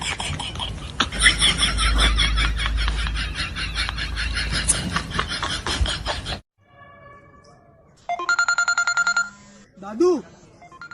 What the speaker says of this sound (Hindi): दादू ये आपकी बेटी का फोन आ रहा है किसी।